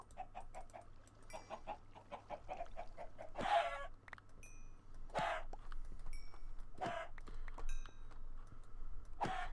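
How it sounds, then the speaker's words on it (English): Chickens clucking in a Minecraft FTB Sky Adventures modpack world, a string of short game-sound clucks and squawks repeating at varying intervals over a faint steady background hum, with no talking. "Got chickens everywhere."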